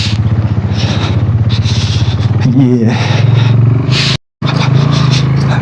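Motorbike climbing a steep offroad mountain trail toward Karambar Lake in Pakistan: a steady, close engine drone runs under someone talking throughout, broken by a brief cut near the end.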